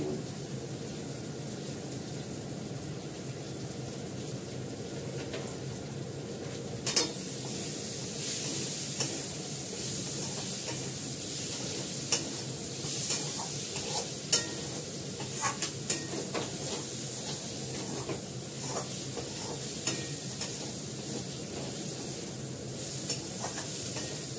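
Mustard seeds, fenugreek and torn dried chillies fry in a little oil, a soft continuous sizzle and hiss with occasional stirring scrapes and seed pops, no talking.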